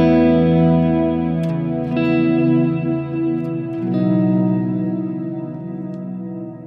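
A sustained, swelling guitar volume swell through a shimmer reverb pedal, with heavy reverb and chorus-like shimmer, chords fading in softly and blooming into a washy, echoing pad.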